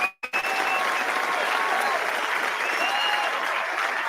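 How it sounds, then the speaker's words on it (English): Audience applause at an indie game pitch night, a dense, steady wash of clapping that starts abruptly and holds at full strength throughout. "let's give one huge round of applause to these students and the pitch night in general"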